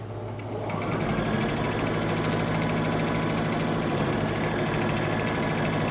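A sewing machine chain piecing patchwork quilt blocks, starting up after a brief quiet moment into a continuous close, steady whirring hum with a rapid needle rattle throughout, no talking.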